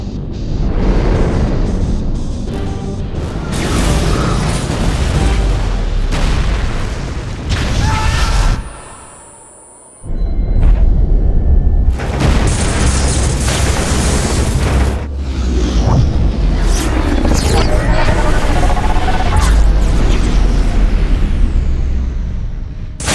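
Starship weapons fire and explosions in a Star Trek film: sustained, loud booming blasts and rumbling detonations fill the scene almost without pause, with one brief drop before the barrage resumes.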